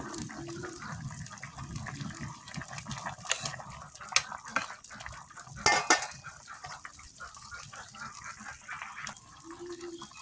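Fried fish pieces being added to a simmering curry in a pot and spread around, with scattered clinks and scrapes of utensils against the pot over a steady wet bubbling background.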